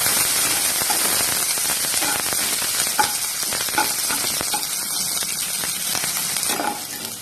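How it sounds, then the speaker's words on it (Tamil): Chopped onion, mustard seeds and curry leaves sautéing in hot oil for a Tamil plantain gravy, a steady loud sizzle with faint stirring clicks, no talk. "எல்லாத்தையும் நல்லா வதக்கிக்கலாம்."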